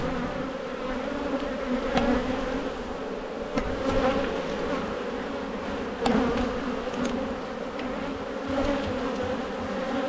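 Honey bees from a strong colony buzz densely at an open beehive, a steady close swarm hum with individual bees whining past now and then.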